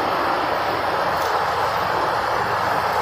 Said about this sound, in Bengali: আর আমরা এই মুহূর্তে আছি ট্রেনের মধ্যে